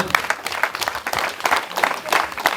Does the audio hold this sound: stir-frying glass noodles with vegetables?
no